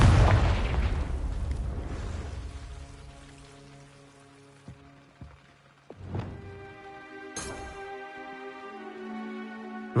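A Confringo fire spell explodes in the video game Hogwarts Legacy, a loud boom with a crackling tail that fades, followed by lighter magical chimes and effects.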